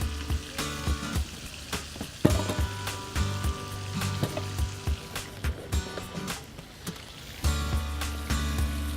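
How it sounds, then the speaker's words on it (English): Pork loin coated in dry rub sears in a hot pan, a steady sizzle broken by repeated clanks and knocks as the meat is moved and turned. "So let that get seared up for about a couple more seconds"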